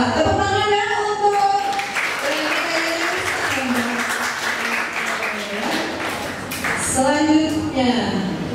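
An audience at a school quiz-competition semifinal claps in a steady burst while a voice talks over the applause at intervals.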